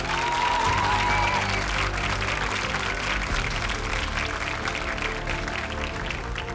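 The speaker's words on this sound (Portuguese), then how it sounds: "Um aplauso para a Bárbara." Studio audience applause for a young mentor on The Voice Kids Portugal, a steady crowd clapping over a bed of sustained background music.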